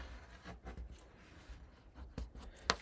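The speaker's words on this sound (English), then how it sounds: "So I will fold and burnish" Paper being folded and burnished for a mini album, with soft close rubbing strokes in short bursts and a sharp crisp snap near the end.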